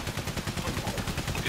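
Rapid, dense gunfire from the WWI video game Valiant Hearts: The Great War, a loud, continuous burst of closely packed shots with no pauses.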